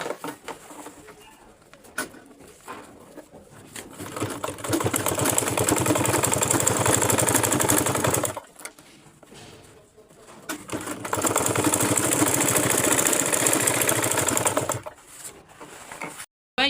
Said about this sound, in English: That's where you start sewing it downward.